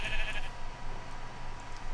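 A sheep bleats once in the Minecraft Galacticraft mod, a short wavering cry at the start followed by faint ambient game hum.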